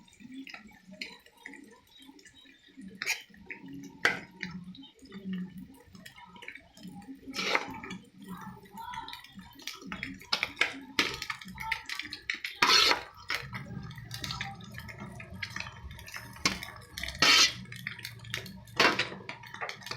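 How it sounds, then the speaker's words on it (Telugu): Cooked rice tipped into a pan of egg biryani masala and stirred, with steady scraping, clinks of a spoon on metal and soft wet tossing, close and continuous, no talking. "మనం ముందుగానే వండుకున్న అన్నాన్ని దీంట్లో కలుపుకోవాలి అన్నాన్ని మొత్తం దీంట్లో వేసుకోవాలి"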